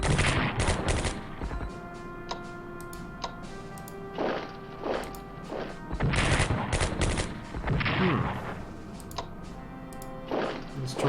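Tanks attacking with gunfire in the strategy game Strategic Command 1939 Storm over Europe: repeated loud volleys of crackling gunshots and blasts in separate bursts, mixed with interface clicks.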